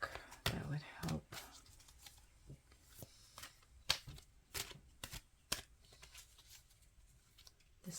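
A deck of oracle cards is shuffled close up during a reading, soft irregular riffling and card flicks at low volume, with quiet whispery speech mixed in.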